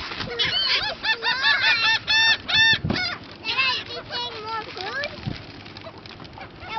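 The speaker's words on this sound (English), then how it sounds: "Birds are getting crazy now." Seagulls on Huguenot Park Beach in Jacksonville, Florida call in a noisy flock, many overlapping squawks and cries close by, with voices talking among them.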